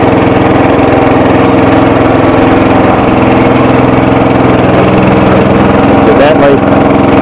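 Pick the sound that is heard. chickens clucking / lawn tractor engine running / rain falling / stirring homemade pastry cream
lawn tractor engine running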